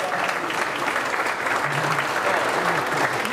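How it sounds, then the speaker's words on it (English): A room full of people claps steadily and densely for a young basketball player invited up front, with a few voices murmuring beneath the applause. "Give Juan a round of applause."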